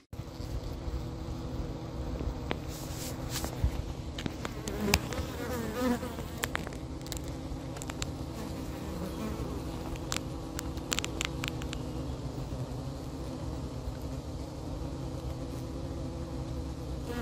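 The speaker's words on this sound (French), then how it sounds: "est-ce qu'il y a une différence de bruit entre le rappel et la ventilation chez les abeilles?" Honey bees buzzing steadily at the hive, a dense continuous drone with a few louder individual wingbeats passing close, unbroken for the whole stretch.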